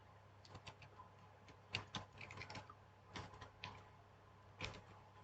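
Quiet typing on a computer keyboard, several short bursts of key clicks separated by brief pauses, close and faint with no talking.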